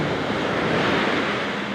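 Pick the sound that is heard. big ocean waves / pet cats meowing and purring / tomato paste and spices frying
big ocean waves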